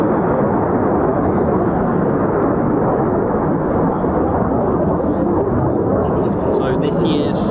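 An RAF Eurofighter Typhoon FGR4 jet with reheat lit at an airshow, a loud, continuous, rumbling roar that fills the whole stretch, with a voice talking over it.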